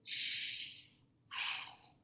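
A deep meditative breath taken twice: two long airy rushes, each about a second, separated by a short pause, close and fairly quiet, with no talking.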